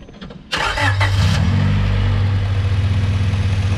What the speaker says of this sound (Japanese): セルノートがホンダだもん